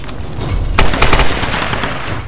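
Rapid gunfire from a firefight in the 2013 Tomb Raider video game, a steady burst of repeated shots with a louder cluster near the middle, filling the whole stretch with no talk.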